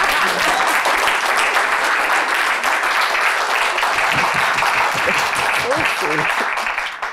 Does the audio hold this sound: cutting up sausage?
no